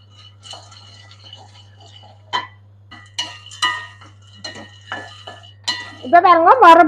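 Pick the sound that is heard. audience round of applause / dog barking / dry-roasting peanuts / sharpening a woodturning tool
dry-roasting peanuts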